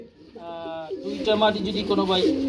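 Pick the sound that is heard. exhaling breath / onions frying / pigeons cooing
pigeons cooing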